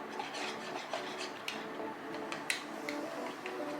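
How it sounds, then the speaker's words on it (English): A utensil scrapes and clinks against a bowl while banana paste is mixed with egg for homemade pancakes: quiet, close rubbing strokes with occasional light taps on the bowl. "I mix it well."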